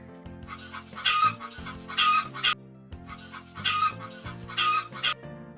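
A hen clucks in repeated short bursts, two groups of rising cackles separated by a brief pause, close and clear with no talking.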